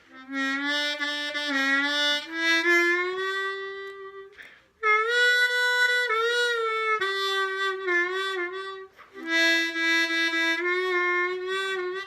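A harmonica plays a slow, sustained melody of reedy held notes, some bent draw notes sliding in pitch, with brief pauses between phrases.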